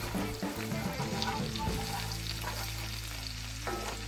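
Garlic, scotch bonnet pepper and fresh herbs being stirred in sizzling butter for a herb butter lobster dish: a loud, steady frying hiss with scraping stir strokes, close up, over a low background hum.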